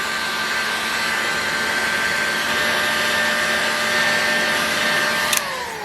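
A heat gun blasting hot air onto a seized engine part of a Fox twin engine makes a loud, steady roaring whoosh with a faint electric whine, holding constant for several seconds before a small click near the end.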